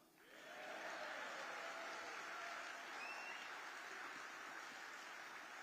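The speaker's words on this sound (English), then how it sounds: "You can clap for that." Sustained crowd applause at a Reform UK political rally in Leicester, a dense wash of many hands clapping that swells in quickly and holds steady and fairly distant throughout.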